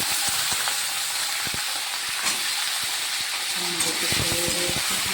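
Mixed vegetables fry in a pan with a soft, steady hiss and light sizzle under occasional clinks and faint household noise, fairly quiet.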